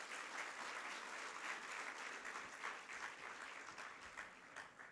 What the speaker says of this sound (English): May we have another round of applause?